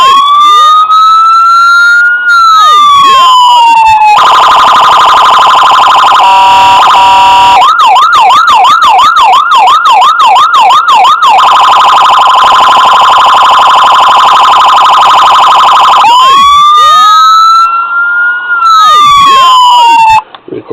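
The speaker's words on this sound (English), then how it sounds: "Again, the siren control is on the passenger side muffler. It's very loud, like your Chicago one." Loud electronic police siren from a custom Woodridge PD diecast Ford Explorer model, cycling through wail, fast yelp and steady high tones for about twenty seconds, close and alone, then switched off abruptly.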